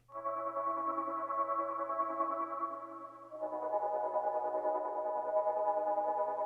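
Soft synth chords pulse with a fast rhythmic tremolo wobble, quiet and alone, shifting to a new chord about halfway through.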